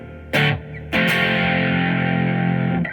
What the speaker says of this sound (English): Church reverb.